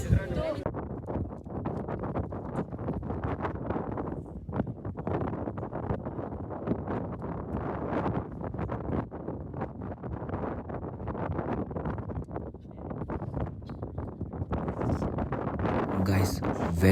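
Cold wind blowing across Shivagange hill, a constant rough buffeting roar against the microphone that carries throughout, with a person talking over it.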